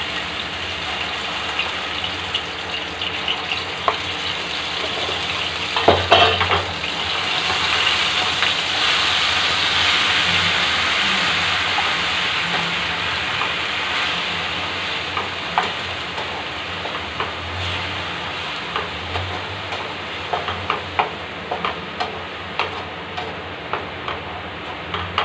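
Onion paste sizzles steadily in hot oil, a soft broad frying hiss with occasional stirring clicks and taps, close and moderately quiet, with no talking.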